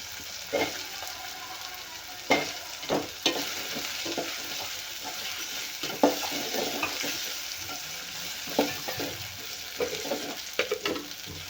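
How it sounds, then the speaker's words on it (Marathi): Brinjal sizzles in hot oil with a constant crackling hiss, while a spatula stirs in periodic scrapes and taps near the pan, with no speech. "वांगे पण आपल्याला तेलामध्ये भाजून घ्यायचे आहेत"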